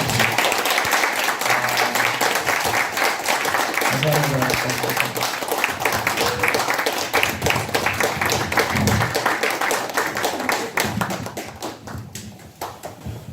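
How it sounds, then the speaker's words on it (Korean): Congregation at a Korean church prayer meeting gives a long, loud round of applause to welcome a pastor to the front, steady dense clapping throughout with voices talking over it. "우리 큰 박수로 앞으로 모시겠습니다"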